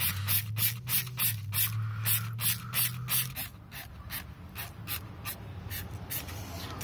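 Wheel cleaner sprayed onto a car wheel in rapid, evenly spaced bursts from a trigger bottle, close and crisp, with a low hum underneath during the first half and no talking.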